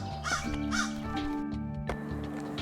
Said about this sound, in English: Are there crows over here? It looks like there are.